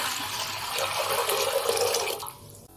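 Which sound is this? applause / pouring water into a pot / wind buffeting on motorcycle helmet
pouring water into a pot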